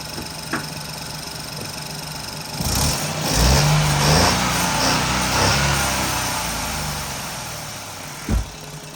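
A 2017 Ford Focus engine idles steadily, briefly revving up in the middle before settling back, with a sharp knock near the end.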